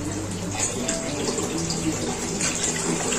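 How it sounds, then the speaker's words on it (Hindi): Water pours steadily into rice in a cooking pot while making beef moti pulao, a continuous close splashing gush with a faint voice in the background. "ये हमने पानी डाल देना है।"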